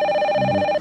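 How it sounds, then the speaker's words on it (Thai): A telephone ringing indoors, a loud close electronic ring tone held steady for nearly a second with a low hum joining midway, then cutting off abruptly, no speech over it. "เสียงโทรศัพท์เจ้าค่ะ"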